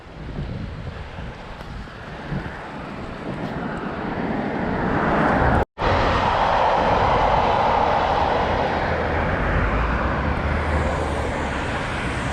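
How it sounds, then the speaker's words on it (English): A small local commuter train rolls past in Hokkaido, its steady rumble mixed with heavy wind buffeting the microphone; the noise swells and holds loud for the whole stretch, broken by one brief dropout midway. "That one looks like a local commuter train. Small one."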